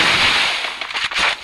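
A single gunshot headshot in a mobile shooter game, a sharp burst of cracking gunfire that decays into a short rattling tail, loud and alone with no voices.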